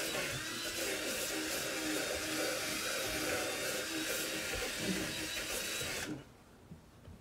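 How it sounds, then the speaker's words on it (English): A steady high-pitched whirring of a power drill brush scrubbing a car headliner runs continuously for several seconds, close and loud, then cuts off abruptly into quiet. "you can use your drill brush right here"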